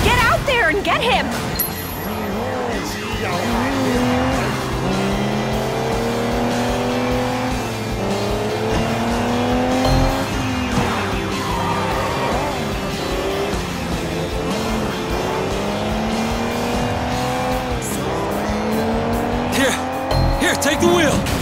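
A car chase in the video game Sleeping Dogs, with continuous roaring engines that rev and shift, repeated tire squeals and skids, and voices talking over the driving throughout.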